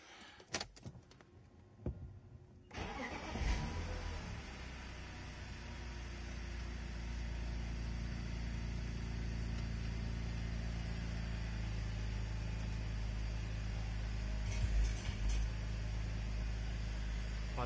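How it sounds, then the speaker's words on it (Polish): BMW E60 with the M54B30 inline-six firing up for the first time after valve stem seal replacement: a few clicks and a short crank, then the engine catches and settles into a steady, loud, even idle that runs alone to the end. "Pierwsze odpalenie."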